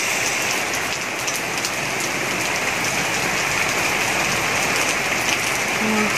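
Heavy rain pours steadily onto a terrace garden, a dense continuous hiss of drops on a hard surface with no voices.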